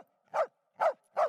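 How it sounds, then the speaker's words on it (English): A single dog barks in a house, three sharp, evenly spaced barks that sound near and clear against silence. "No barking."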